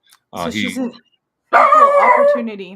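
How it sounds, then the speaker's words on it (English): A pet dog barks in a home during a conversation, and its short yips are mixed in with people talking. "Oh, yeah, that's my dog."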